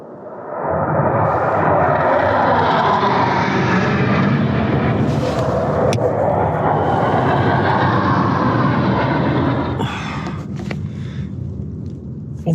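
A low-flying aircraft passes overhead at night beside Lake Vyrnwy in Wales, a loud, roaring engine rumble that swells quickly and holds for several seconds before easing off, heard alone with no talking.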